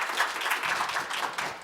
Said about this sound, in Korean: 정말 큰 박수로 지금까지 수고해 주신 세 전문가님에게 큰 박수 한번 부탁드리겠습니다.